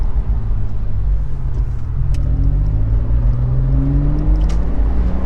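A 1997 Porsche Boxster 986 with 171,750 km and tall gearing cruises on the open road, its engine a steady loud drone with slowly rising tones as it pulls through a gear.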